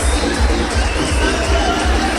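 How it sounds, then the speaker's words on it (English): A crowd at a first Holy Communion celebration claps and cheers, a dense burst of applause with rhythmic low thumps lasting a couple of seconds. "Please give her a big round of applause."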